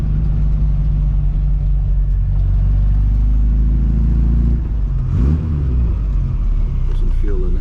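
A custom classic Mini Cooper engine on its first road test gives a loud, steady low rumble with a faint whir, and a voice briefly cuts in near the end.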